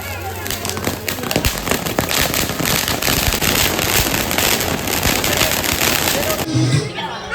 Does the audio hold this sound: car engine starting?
no